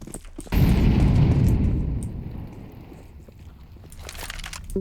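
An incendiary grenade lands in Counter-Strike 2, a sudden loud whooshing burst at about half a second that settles into a sustained low roar of fire, slowly fading with faint game sounds behind it.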